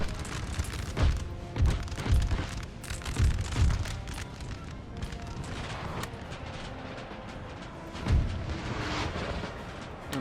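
Artillery booms from Napoleon: Total War during the Siege of Badajoz in Spain, several deep, distant thuds in two quick clusters and a later single blast, rolling over a low, steady battlefield rumble.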